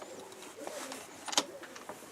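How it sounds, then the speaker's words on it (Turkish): A pigeon coos softly in a few short, faint calls against quiet background noise, with no talking. "Şimdi indi kuş geldi"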